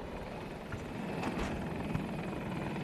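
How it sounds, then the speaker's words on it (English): Helicopter in the video game Battlefield 2042, a steady loud whirring rotor drone with dense engine noise, continuous throughout with no talk over it. "Enemy helicopter spotted!"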